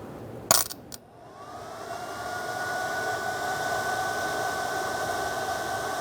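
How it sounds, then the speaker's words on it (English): A sharp click and rattle comes first, then a steady high electrical whine and hum as an induction heater heats the O2 sensor housing on a 2010-2013 Kia Soul 2.0L L4. "we're going to use our induction heater here"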